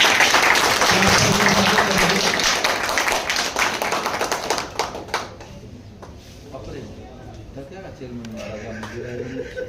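Audience clapping at a Hindi-language ceremony honouring students, loud and dense at first, then thinning out as a voice speaks over the fading applause.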